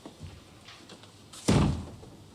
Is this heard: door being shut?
yes